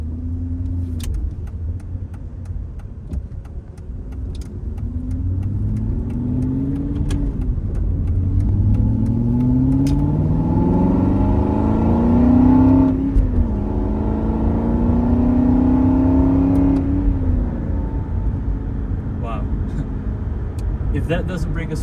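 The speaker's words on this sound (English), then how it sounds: "that engine sounds absolutely beautiful" An Aston Martin V8 Vantage engine revs and accelerates through gears, pitch sweeping up and dropping repeatedly, loud and close, with a voice speaking over it.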